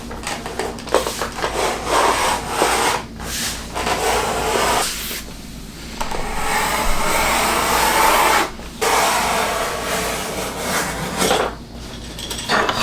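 A leather strap pulled by hand through a wooden strap cutter set to about one inch, giving a loud, steady rasping scrape that runs in long strokes with brief pauses between pulls.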